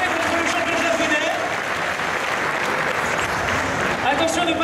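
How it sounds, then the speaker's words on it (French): A crowd applauds the players at the Marvel vs Capcom 3 final at Stunfest 2015, steady dense clapping throughout with a few cheers and a host's voice over it. "Mesdames, messieurs, je vous invite à applaudir ces joueurs"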